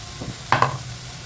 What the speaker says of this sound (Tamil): பச்சை மிளகாவும் ரெண்டு ரெண்டாக உடச்சி போட்டேன் நல்லா வதங்கிடுச்சு